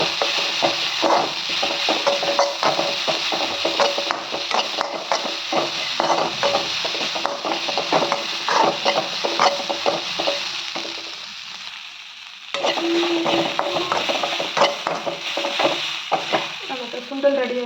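Grated coconut being stirred into green gram sundal in a pan: a spoon scrapes and stirs steadily over a soft sizzle, pausing briefly partway before stirring resumes.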